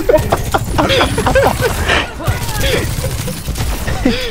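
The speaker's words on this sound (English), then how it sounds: "I was shooting at you!" Rapid gunfire from a video game shooter crackles in quick bursts, mixed with excited voices talking over the shots.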